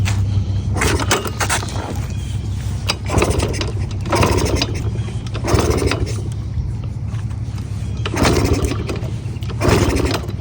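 A small engine whose fuel was left on is cranked over and over, with a steady run of rough, mechanical pulls and scraping bursts that never settle into a running engine.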